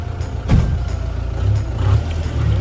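A shared car drives from the Darjeeling bus stand toward Maneybhanjan. Its engine hums low and steady from inside the cabin, swelling slightly at moments, with no voices.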